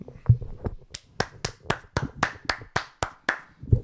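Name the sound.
hand clapping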